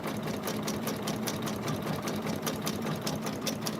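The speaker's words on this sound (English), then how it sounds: "I have my machine stitching a little bit on the slower side because I do not have a stand" Embroidery sewing machine running at a slow speed without a stand, a steady rhythmic mechanical clatter of needle strokes with an even repeating pulse, close and continuous throughout.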